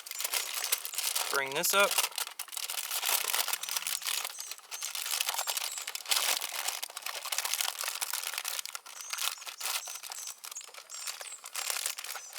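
Aluminium foil crinkled and folded around a meal for cooking over charcoal, with a steady close-up crackle that runs throughout, a brief voice speaking early on.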